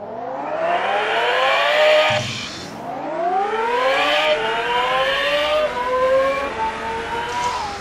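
Engine of a Lamborghini Gallardo in Roblox Driving Empire, revving up through rising gear-like sweeps, dropping sharply after a shift, then climbing again in repeated whining pulls, loud and close.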